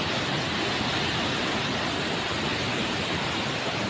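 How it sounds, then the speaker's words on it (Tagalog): A waterfall near the end of the Rainbow Bridge in Taiwan gives a dense, unbroken roar of rushing water. It is loud and close, with no voices over it. "Mayroong dyan, falls, waterfalls."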